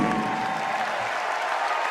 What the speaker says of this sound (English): He applauds.